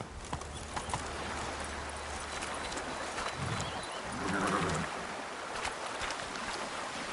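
Roach the horse gallops in The Witcher 3, a steady drumming of hoofbeats over a rushing wind-like bed of game sound, rising briefly in the middle, with no speech.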